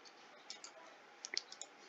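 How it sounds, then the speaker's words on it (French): Faint, scattered computer mouse clicks, a handful of light ticks spaced irregularly over a quiet background, including a quick double click near the middle. "je clique sur dupliquer"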